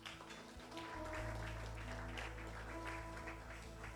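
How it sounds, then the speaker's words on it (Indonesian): Church congregation applauding at a worship service, a steady dense clatter of clapping over a sustained low organ or keyboard drone, moderately loud throughout. "Boleh tepuk tangan yang meriah buat Tuhan."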